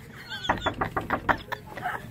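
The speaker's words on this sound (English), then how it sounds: "We're going to knock on the door, and we're going to see if she's surprised." A fist raps on a house's front door during a Publishers Clearinghouse prize-winner visit: about seven quick, evenly spaced knocks, moderately loud and close, with no talking over them.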